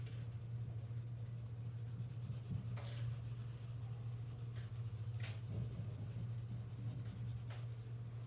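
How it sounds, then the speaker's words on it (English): Graphite pencils, H and B grades, shading and blending on drawing paper: a steady, close scratchy rub with a few brief stronger strokes, continuous under a low constant hum, no talking. "And then H pencil over on the other side. And then I can also let that blend in with that B pencil up at the top."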